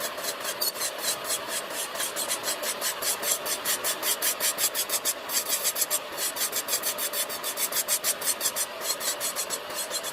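The middle section of an electric nail drill bit grinds gel top coat off fingernails, a close, steady high whine broken into quick rhythmic rasping strokes throughout.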